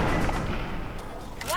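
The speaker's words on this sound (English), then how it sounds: "Machine gun." Machine gun fire in Fallout 3 (Tale of Two Wastelands), a steady loud rattle of rapid shots, with a voice speaking faintly under it near the end.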